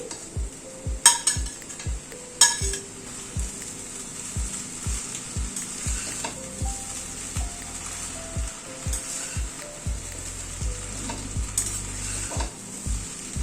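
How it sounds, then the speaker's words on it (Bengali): Potato and fried fish roe sizzle in a pan while a utensil scrapes and knocks against it in a steady, repeated stirring rhythm, close by. "সব কিছুকে দিয়ে একবার একটুখানি নেড়ে নিচ্ছি"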